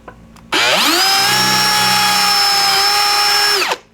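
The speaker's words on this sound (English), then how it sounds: "we're just drilling all our little holes." A power drill bores holes for solar panel mounts: one continuous whine of about three seconds that starts abruptly, holds a steady high pitch and then cuts off, loud and close, with no talk over it.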